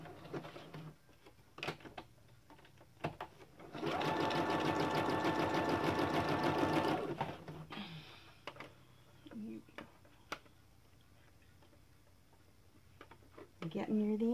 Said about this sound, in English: And I'll stitch a little bit more.